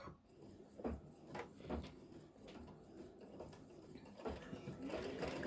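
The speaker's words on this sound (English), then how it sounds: "now it's going to stitch color number 3, which is going to be the placement for the center fabric" An embroidery machine stitches the placement line for the center fabric of an in-the-hoop mug rug side panel, a steady mechanical whirr with rhythmic clacks and bumps, close and fairly loud.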